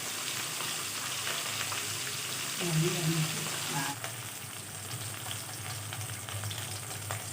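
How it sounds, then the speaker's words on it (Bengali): Pieces of rohu fish fry in hot oil in a kadai, giving a continuous crackling sizzle with a brief louder burst partway through before settling back to a steady hiss. "প্রথমে মাছগুলো আমি ভেজে নেব"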